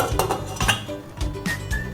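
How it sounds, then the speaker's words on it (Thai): Metal lid clanking and clinking against a cooking pot of pork ribs with turmeric, salt and lemongrass, a few sharp knocks and rattles close by. "ปิดฝานะครับ"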